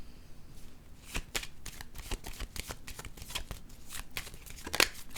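Playing cards handled and shuffled close up, a rapid series of crisp flicks, snaps and riffles, fairly quiet, with no talking.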